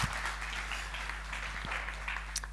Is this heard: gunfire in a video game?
no